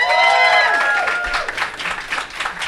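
An audience at a comedy cabaret show bursts into cheers and whoops, then settles into scattered clapping that fades and turns patchy.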